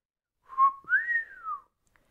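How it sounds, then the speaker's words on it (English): A low, drawn-out wolf whistle sounds close and alone, with a short rising note and then a longer tone that climbs and falls away. "he lets out a low wolf whistle"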